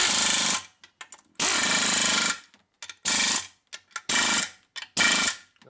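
Ratcheting wrench tightening bolts on the clutch primary of a 1972 Harley-Davidson XL Ironhead Sportster, loud close bursts of rapid clicking in several strokes separated by short pauses and small clicks.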